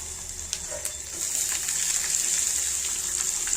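Onions sautéing in a pan for a vegetarian fish-style kuzhambu, a steady hiss and sizzle that grows louder partway through and holds close and continuous with no talking.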